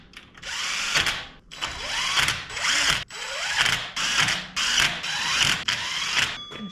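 Ratchet wrench tightening the head bolts on a worn tracked dumper engine, heard as repeated bursts of close, loud rapid clicking, each about half a second to a second long, separated by brief pauses as the handle swings back.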